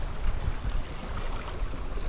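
Waves on a wide river at Muar, Malaysia, roll as a continuous, even, broadband wash of water, fairly close and alone.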